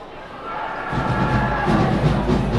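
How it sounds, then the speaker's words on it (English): Crowd noise at a Chattanooga FC football match against Greenville FC, a broad roar from the stands that swells suddenly louder after the first second and stays loud. "this much noise from the crowd"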